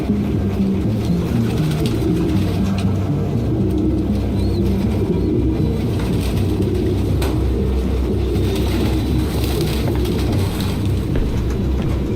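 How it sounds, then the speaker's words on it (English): Pigeons cooing in a grimy apartment in the video game Detroit: Become Human, a dense continuous murmur of low coos filling the scene, loud and steady with no voices. "No human could live with all these fucking pigeons."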